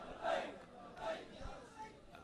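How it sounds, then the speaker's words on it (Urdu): A large crowd at a religious speech gathering in Karachi chants the Labbaik slogan in rhythmic surges, three swelling shouts sounding faint and distant with crowd murmur between them. "لبیک کا نعرہ"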